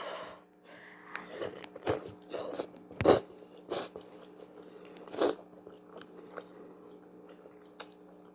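Braised pork trotters (jokbal) being chewed close to the mic in a Korean mukbang: scattered wet bites, squishes and smacks with irregular spacing, moderately loud against a quiet low hum, with no talking.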